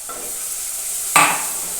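Chutney goes into hot oil with curry leaves for a whole brinjal curry. A steady hiss runs throughout, and a sudden louder burst of sizzle and a stirring scrape come just past midway, with no talking.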